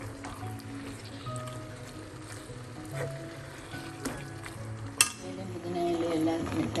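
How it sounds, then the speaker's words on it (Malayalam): Chicken biryani mix with about two teaspoons of yogurt is stirred in a pot, giving soft squishy scraping and a sharp clink of a spoon against the pot, with speech over the top. "അതൊന്ന് മിക്സ് ചെയ്ത് കൊടുക്കാം."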